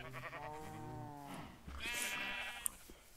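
In Minecraft, a sheep bleats with a wavering, clearly pitched call for over a second, and then a quieter, fainter bleat follows amid light in-game background noise.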